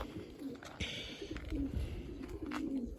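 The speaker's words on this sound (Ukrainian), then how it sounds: "Тут дрімають голуби, не буду заходити, не буду там їм мішати" Soft, low coos of dozing pigeons repeat a few times at close range, with a faint rustle and brief higher chirps in between.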